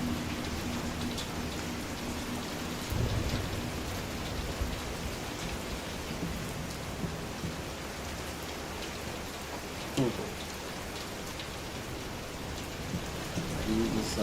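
Steady rain patters down during a storm in the horror game Layers of Fear, a constant dense hiss with a few faint low rumbles and occasional soft knocks, moderately quiet and without voices.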